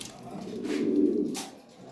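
A Lahore pigeon gives a single low, rounded coo that swells and fades over about a second, close and clear against a quiet background.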